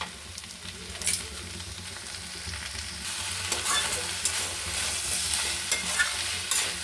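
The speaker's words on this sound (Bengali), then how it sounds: "আবার একটু নেড়ে চেড়ে নেবো" Soybeans and spring onion leaves are stirred in a hot pan. A soft scrape and sizzle with occasional spatula knocks grows louder and fuller halfway through over a low steady hum, with no speech.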